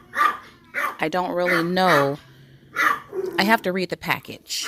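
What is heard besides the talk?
dogs barking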